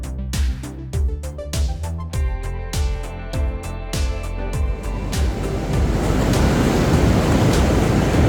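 Waves and surf roll in at Mungo Beach, Australia, first behind bright plucked musical notes, then as a steady, loud, broad wash of surf roar once the music fades.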